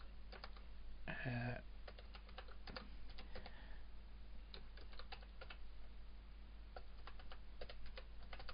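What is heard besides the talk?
typing on a computer keyboard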